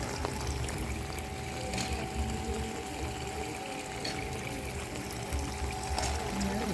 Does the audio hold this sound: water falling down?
yes